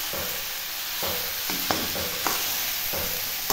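Chicken pieces, from a home-raised local bird, being stirred in a hot wok over frying oil, with a steady sizzle and repeated scraping spatula strokes at a nearby, moderate level.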